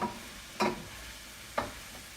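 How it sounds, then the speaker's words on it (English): Mushrooms being stirred into garlic sautéing in olive oil in a pan, two soft scraping stir sounds over a low, steady sizzle, close and fairly quiet with no talking. "It smells so good with that garlic cooking."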